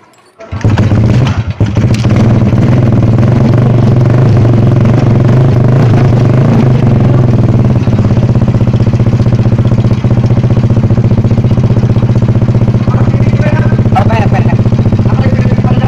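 A Honda XRM110 motorcycle with a newly replaced block, piston and piston rings starts up after a brief cranking and settles into a loud, steady, close idle that runs on without a break.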